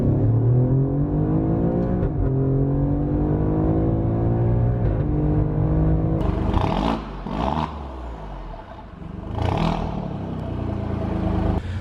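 Alfa Romeo Giulia Quadrifoglio, the 500-horsepower sedan, revving hard and loud and close, its engine note rising and falling through several sharp climbs with a crackling, clattering edge between bursts.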